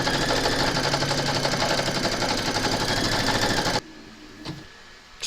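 An embroidery machine rapidly stitches batting onto a Christmas bottle tag in a hoop, a fast, even mechanical chatter that stops abruptly, followed by a quiet pause with a couple of small clicks.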